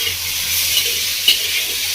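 Pineapple chutney with salt being stir-fried in a pan, a steady close sizzle with a faint scrape of stirring partway through.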